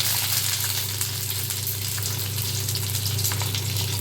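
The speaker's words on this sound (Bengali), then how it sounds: "তেলটা গরম হয়ে গেছে, আমি গ্যাসটা একদম কমিয়ে দিয়েছি, একদম লো। এবার আমি পাতুরিগুলো এর মধ্যে দিয়ে দেব।" Hilsa fish paturi fries in hot oil in a pan on a low gas flame, giving a steady, close, dense sizzle that holds evenly throughout with no voices.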